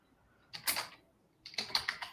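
Typing on a computer keyboard, two short clusters of quick, close key clicks separated by a brief pause, with no talk over them.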